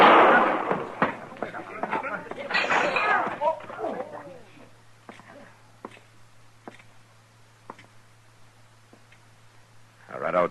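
Gunfire in a Gunsmoke old-time radio western drama: a loud, harsh blast opens amid shouting voices, followed by a string of sharp, fainter cracks spaced about half a second to a second apart over a steady low hum.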